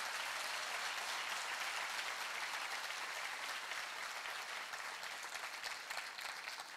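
Sustained applause from a large audience at a televised debate with a government minister, steady and dense clapping that fills the whole stretch without pause, heard from within the hall.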